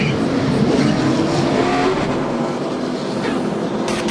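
A NASCAR race car leaves pit road at Talladega during the 2008 AMP Energy 500, its engine a steady, loud roar that fades slightly as it pulls away, with no talk.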